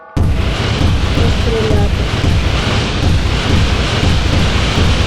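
Heavy, continuous booming bursts of video game gunfire and explosions at a nuclear power plant, loud and dense from start to end after a short quiet opening.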